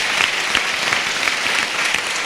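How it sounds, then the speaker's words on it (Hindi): A congregation claps loudly at a fasting prayer service, giving a brisk, continuous round of applause from many hands, with sharp individual claps standing out over the steady patter. "जोरदार ताली"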